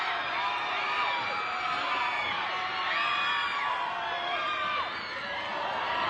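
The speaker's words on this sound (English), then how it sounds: "That's why the crowd are going so excited." Para judo crowd at the ASEAN Para Games in Thailand cheers loudly and continuously, with whoops, shouts and high yells rising in waves across the arena throughout.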